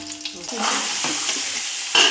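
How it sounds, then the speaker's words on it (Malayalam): Crushed masala for chicken biryani being stirred as it fries in a pan, with a steady close sizzle and scraping strokes that brighten briefly near the end. "നന്നായിട്ട് പച്ചമണം മാറുന്നവരെ ഇളക്കി കൊടുക്കാം"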